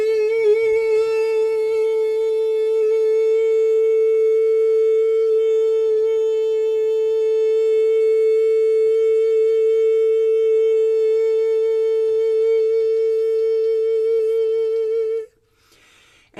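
A soft, supported vocal hum holds one steady note with rich overtones for about fifteen seconds, then cuts off abruptly, alone and without words.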